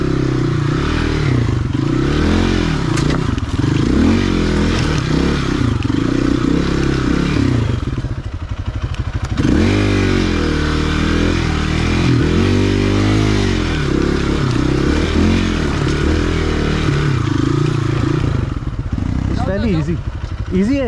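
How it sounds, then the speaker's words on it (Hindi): A Hero XPulse 200 motorcycle rides hard enduro terrain, its engine revving and labouring in repeated surges with clattering and scraping, loud and close, while riders talk throughout. "हम लोग बाइक चलाते हैं।"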